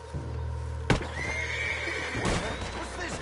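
A horse in a video game gives a clear whinny with a sharp snort and hoof clops, close and fairly loud over steady background game ambience, with a voice speaking briefly.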